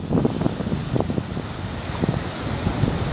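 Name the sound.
headwind on jetty after cyclone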